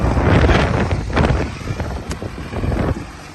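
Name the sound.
cold wind blowing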